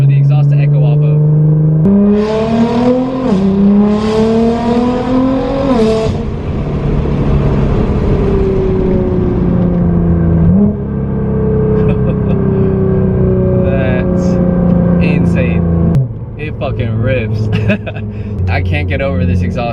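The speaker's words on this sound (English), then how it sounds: "the exhaust is super loud when you want it to be" Nissan GT-R R35 fitted with an Fi exhaust, revving and accelerating loudly through rising gear pulls, its echo bouncing off trees on a small runway in Mexico, near and continuous with brief shifts between pulls.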